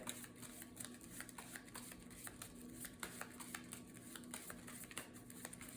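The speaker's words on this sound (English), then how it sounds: "let's shuffle up the discard pile here back to the deck" Playing cards from a discard pile being shuffled back into the deck during a solo Marvel Champions card game, a quiet series of soft riffling clicks and taps at close range with no talking.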